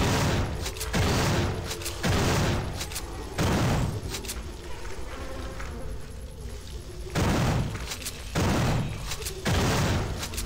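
Repeated heavy blasts and bursts of gunfire with a grenade launcher in System Shock 2, loud booming volleys in clusters separated by quieter gaps, several shots per burst, no talk over them.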